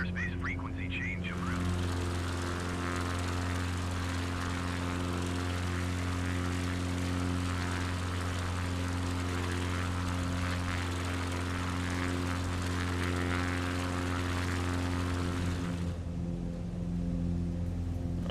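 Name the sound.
small propeller plane climbing, video game Microsoft Flight Simulator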